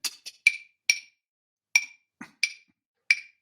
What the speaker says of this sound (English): clave are these instruments right here, just two sticks often made of rosewood